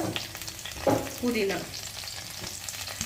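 Coriander leaves fry in a prawn biryani pot with a soft sizzle and brief stirring scrapes, close by, with a muffled thump near the start.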